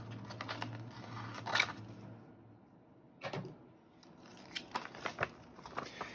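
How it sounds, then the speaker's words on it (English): Scissors cutting paper ephemera for a journal page, a few sharp close snips and crisp crunching cuts, with brief quiet gaps, alone and fairly soft. "I'm going to cut this one out as ephemera for the other one"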